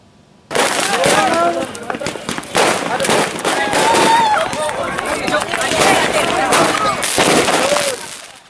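Dense bursts of crackling firecracker pops over a noisy crowd of hundreds of young men brawling before dawn in Panji, Situbondo, East Java, continuous and chaotic for several seconds.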